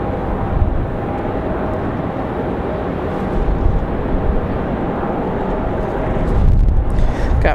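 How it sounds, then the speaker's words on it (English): A Republic Airways Embraer E175LR arriving from LaGuardia at Raleigh-Durham in windy weather, producing a loud, steady rushing jet roar with low rumble that swells slightly toward the end. "Republic Airways 4560. Coming in from LaGuardia, 1 hour 36 minutes of flight time for this"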